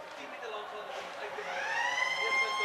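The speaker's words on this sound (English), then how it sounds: "And that is the siren." A rising match siren wails through loud crowd noise and a commentator's voice at a university rugby match between Walter Sisulu and Rhodes, its tone climbing steadily and growing louder toward the end.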